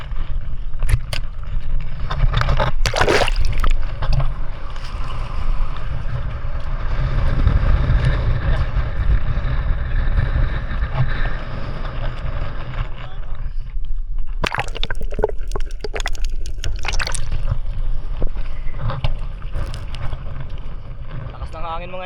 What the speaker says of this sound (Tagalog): Hangin mga idol, grabe.